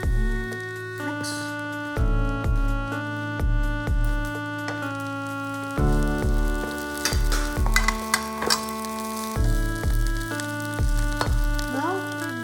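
Egg fried rice stir-fried in a pan with a spatula, steady sizzling and frying with repeated scraping strokes, heard under loud rhythmic background music.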